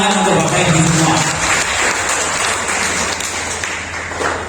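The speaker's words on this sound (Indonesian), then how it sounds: "Tepuk tangan untuk Bapak Ibu semua." A parish family recollection gathering breaks into applause, a steady crowd of hands clapping that fills the room at close range and stays fairly even, softening slightly toward the end.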